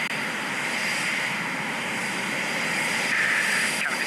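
Military jet aircraft engines run up at an airfield ahead of taxiing to runway 25, a loud sustained roar with a faint whine, steady throughout.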